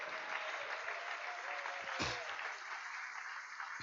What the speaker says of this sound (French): Est-ce qu'on peut applaudir pour eux?